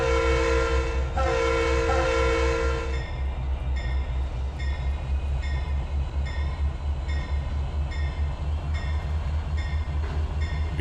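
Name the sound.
SD60 diesel locomotive in Trainz 2022 video game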